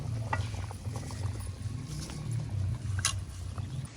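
Rice poured into a pot of boiling water with vegetables, low bubbling and gurgling with a few scattered splashes and grains pattering in, close and moderately loud.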